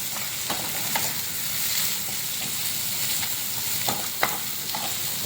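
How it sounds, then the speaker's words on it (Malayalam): Shallots, ginger, green chillies and curry leaves stir-fry in a pan for oats upma, a continuous close sizzle broken by repeated scraping stirs at a loose, uneven rhythm, with no talk. "ഇതൊന്ന് ഇളക്കി ഒരു ചെറിയ വറുക്കാം."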